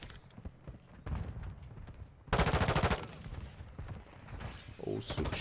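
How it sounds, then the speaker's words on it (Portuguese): Bursts of automatic gunfire crackle in the video game Modern Warfare 2, with one loud sustained volley in the middle and scattered shots around it. "Ouço tiros, mas não vejo ninguém."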